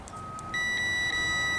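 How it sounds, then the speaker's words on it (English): A multimeter's continuity tester gives a steady high-pitched electronic beep that switches on partway through and holds continuously over faint background hiss. "You hear that beep? That means I got continuity across my leads."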